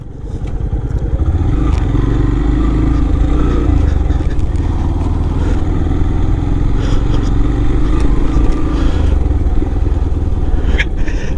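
A motorbike climbs a sandy hill track in Satchari with a steady, loud engine drone and low rumble throughout, tyres working through loose soil and small clatters over the top.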